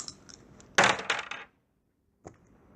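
Two six-sided dice rolled onto a table for tabletop game damage, a bright clattering burst of tumbling hits that settles after about half a second, then a single small tap a moment later, with faint low chatter beforehand.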